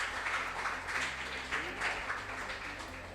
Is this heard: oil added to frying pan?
no